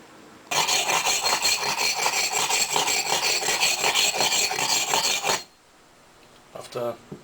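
An axe blade scrapes back and forth across the rough side of a sharpening stone in a steady, harsh rasping stream for about five seconds, then stops, followed by a few brief softer scrapes.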